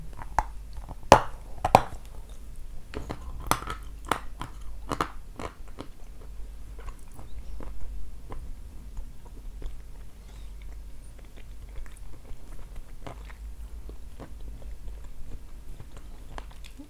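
Someone biting into and chewing a piece of salty Kyrgyz food, close crisp crunches clustered in the first few seconds, then softer, steady chewing with faint smacks over quiet room noise.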